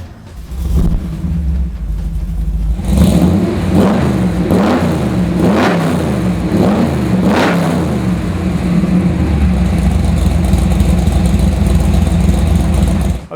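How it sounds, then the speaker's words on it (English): A 1965 Ford Mustang Fastback GT350 engine cranks, catches and settles into a loud rumbling idle, then rises in several sharp throttle blips before easing back to a steady idle, all close up. "How about I start it for you?"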